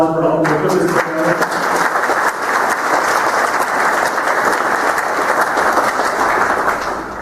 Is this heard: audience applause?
yes